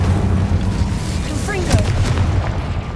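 An Incendio fire spell cast in Hogwarts Legacy, a loud, dense booming rush of flame and impact that fills the whole stretch with a brief rising swish midway, close and continuous.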